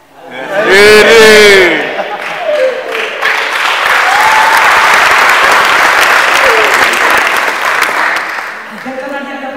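Audience applause and cheering fill a stand-up comedy show in a university auditorium, a loud burst of clapping that swells early and then holds steady as a dense, sustained wash, with brief shouts and voices mixed into the crowd.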